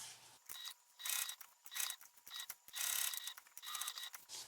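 A sewing machine stitching around a fabric panel, whirring in short mechanical bursts with brief pauses between runs, close and fairly quiet, with no talk.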